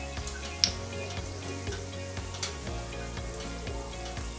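Saltfish fritters fry in a pan of hot oil, giving a steady, soft, continuous sizzle and crackle with occasional small pops throughout.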